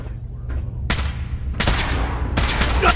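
Gunfire in a Fallout 4 firefight on hard difficulty: three sharp, loud bursts of shots, spaced about three-quarters of a second apart, over a constant low rumble of battle noise.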